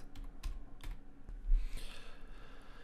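Fingers type on a computer keyboard in a quick, uneven run of close, light key clicks with short pauses between bursts.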